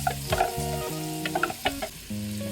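Garlic, onion and finely sliced chili sizzle and fry in a pan, with repeated stirring clatter and scraping over a steady frying hiss, no voices.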